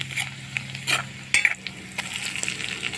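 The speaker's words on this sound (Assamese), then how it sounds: "তেলতে এয়া কেইটামান পাঁচফোৰণ দিলোঁ আৰু নহৰু বটাখিনি দি দিছোঁ।" Panch phoron spices, garlic paste and green chillies frying in hot oil for a fish head and banana flower curry: a steady sizzle broken by several sharp scrapes and clinks of a spoon stirring in the pan, close and with no talk.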